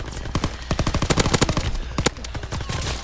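Rapid bursts of PPSh submachine gun fire in a video game, several loud close volleys of fast automatic shots with short pauses between them.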